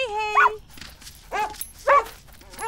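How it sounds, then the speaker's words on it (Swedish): A cartoon dog in the Bing children's series gives a few short, clear barks and yips, spaced apart and fairly close, with light background music and no talk over them. "Det verkar som om hunden heter Strimma."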